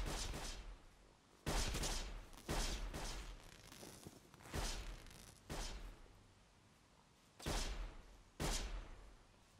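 Enemy gunfire in the game Sir, You Are Being Hunted: a series of separate loud gunshot bursts, about seven cracks with echoing tails, spaced irregularly over a low background.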